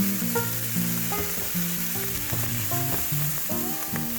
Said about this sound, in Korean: 고기와 야채에 진한 갈색빛이 돌면 레드와인을 넣고 데글라스 해줍니다.